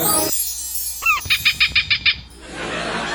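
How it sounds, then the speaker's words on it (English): A bird near water gives a quick rapid series of about six sharp, clear chirps, loud and close, after a short rising call and between stretches of steady background hiss. "whatever that bird was, it wasn't being very coy about its fishing"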